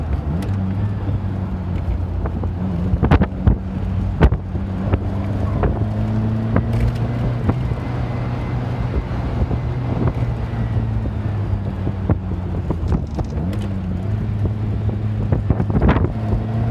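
Strong gusts buffet the microphone outdoors at a car park, a loud rumbling roar with repeated sharp thumps and a low steady hum beneath, continuing throughout with no talking.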